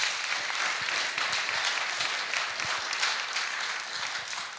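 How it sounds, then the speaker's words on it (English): Conference crowd at SteemFest 4 gives a round of applause, a continuous spread of many hands clapping at moderate volume, with individual claps popping out of the steady roar. "So will you guys just give Steve a big old round of applause?"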